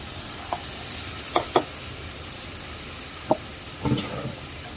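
Water poured into a hot pan of vegetarian curry gives a steady, close sizzling hiss, broken by a few sharp knocks of a utensil against the pan and a brief louder burst near the end.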